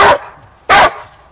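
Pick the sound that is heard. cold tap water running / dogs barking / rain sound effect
dogs barking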